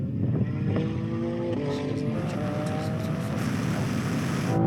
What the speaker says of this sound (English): here comes a Ferrari now